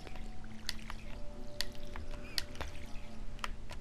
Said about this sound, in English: Time to water my plants.